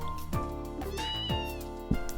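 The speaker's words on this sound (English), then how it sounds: "Meowing." A cat meows in the video game Trails in the Sky, giving a few clear, close meows over steady game background music, with no talk.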